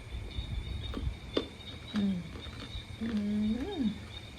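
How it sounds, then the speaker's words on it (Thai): Frogs croaking in the countryside at night, a few separate low, throaty calls with rising and falling pitch rising out of a faint background hiss, fairly close and quiet. "เสียงกบเสียงเขียดเนาะค่ะ"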